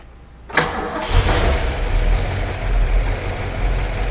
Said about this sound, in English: let's see if you guys can hear those solid lifters as we fire up for the very last time